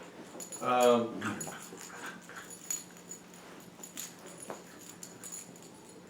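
A pet dog plays indoors, giving one short squeaky whine early on, then only faint scuffling and low noises at a distance, with a brief murmured voice.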